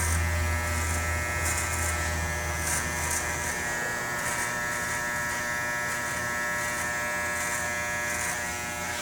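A steady, close electric hair clipper buzzes continuously while cutting hair during a summer haircut, an even drone with slight changes as the blade moves through the hair.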